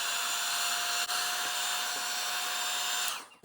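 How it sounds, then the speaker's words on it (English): Heat gun blowing to dry a handmade Santa ornament, a loud steady airy roar held for about three seconds before cutting off. "So I'm going to bring in my heat gun."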